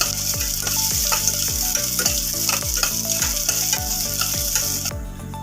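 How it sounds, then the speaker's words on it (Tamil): Small onions sautéing over a low flame for a cauliflower dish, a continuous close frying sizzle with regular scraping strokes of a spatula, no talking. "சிம்மில் வச்சு வதக்கிங்க இல்லைன்னா வெங்காயம் வந்து கருகிடும்"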